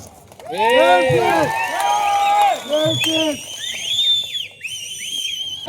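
A political rally crowd cheers and whistles loudly, with sharp rising and falling whistles over a sustained roar, while a voice carries on speaking through the noise.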